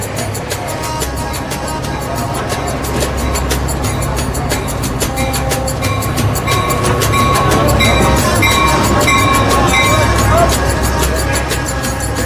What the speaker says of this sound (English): So I'm catching the 1 a.m. train